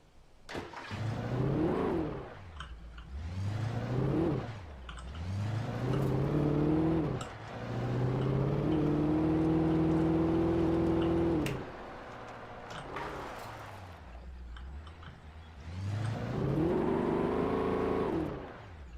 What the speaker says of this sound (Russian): Как звучит прикольно у него двигатель.